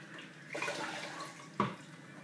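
Water poured from a kettle while brewing a one-gallon SMaSH beer, a soft gentle splash rising midway and a brief louder slosh near the end, close and alone.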